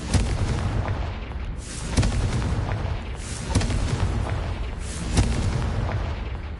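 In the Hogwarts Legacy video game, a Confringo fire spell explodes over and over. Heavy booming blasts arrive every second or two, with rumbling bursts over a dense, noisy background.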